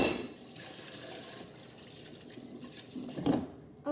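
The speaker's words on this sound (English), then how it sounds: "I'm going to rinse out my sink right now" Tap water runs into a kitchen sink during rinsing, a soft, steady hiss and splash that stays faint throughout and swells briefly near the end.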